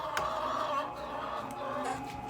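Steady, dense chicken clucking fills the clip, a flock close by with a continuous murmur of cackles and a few sharper calls.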